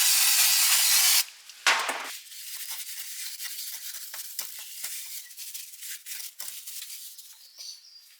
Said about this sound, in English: Now let's clean this area with brake cleaner.